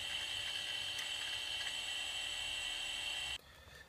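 A Quantum SCSI hard drive from an Apple Macintosh, just freed from a stuck head, spins with a steady high-pitched whine and faint mechanical ticking. The sound is close and cuts down sharply near the end.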